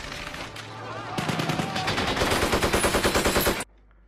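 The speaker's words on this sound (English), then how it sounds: "I know I can just shoot it till it explodes." Rapid, steady automatic gunfire in Delta Force as a player shoots at a technical vehicle: a dense rattle of shots that builds and then cuts off abruptly, leaving near silence.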